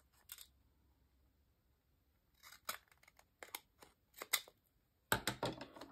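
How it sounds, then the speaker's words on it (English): Scrapbooking scissors snip through scrap paper while a paper tag is cut, giving quiet, crisp clicks: a lone snip, then a scattered run of cuts and a final quick burst, close up in a still room. "Taking my scrapbooking scissors again and clipping the top to kind of make another tag here."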